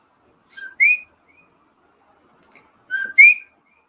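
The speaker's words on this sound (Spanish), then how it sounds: "Siento un eco de mi propio chiflido." Person whistling indoors: two short rising two-note whistles, clear and near, separated by a quiet pause.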